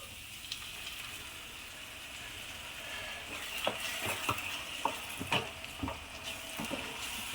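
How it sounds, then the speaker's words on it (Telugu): Tomato puree frying with onions for an egg curry gives a soft, low sizzle, broken by several clinks and scrapes of a spoon stirring the pan. "పచ్చివాసన పోయేదాకా ఫ్రై చేసుకుందాం"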